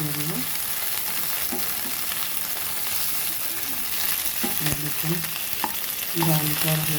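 Chicken fries in a pan for a sandwich, a steady broadband sizzle with a spatula stirring and scraping now and then, close and continuous throughout.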